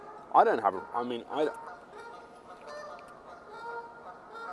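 Several loud honking quacks from waterfowl up close, followed by quieter background noise and faint distant calls.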